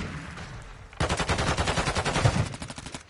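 Rapid automatic gunfire in the video game Warzone 2, a dense burst of loud shots with a sharp onset after a quieter opening, continuing for about two seconds.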